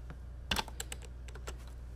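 Brief burst of typing on a computer keyboard: a quick cluster of clicks followed by a few scattered keystrokes, close and fairly quiet, no talking.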